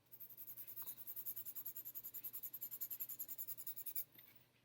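A pencil shades on paper in fast, even back-and-forth strokes, a close rhythmic scratching that runs steadily for about four seconds and then stops, with no talking.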